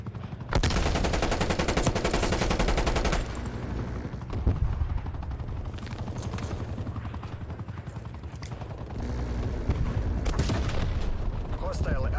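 Gunfire in the video game Call of Duty Black Ops Cold War, rapid automatic bursts followed by scattered shots and explosions in a busy, loud battle mix, with a voice talking over it.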